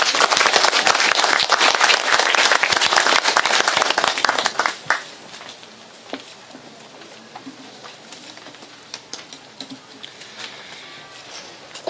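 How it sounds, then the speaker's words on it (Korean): Dense, loud audience applause welcoming a keynote speaker at a Korean policy forum, sustained for about five seconds, then thinning into scattered claps. "박수로 맞아주십시오"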